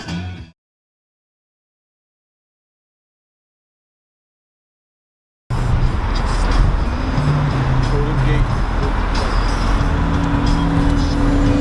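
Inside a moving car, a steady low road and engine rumble fills the cabin after a few seconds of silence, with a brief burst of sound at the very start.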